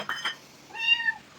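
A house cat kept indoors gives a single clear, close meow, preceded by a couple of soft short sounds.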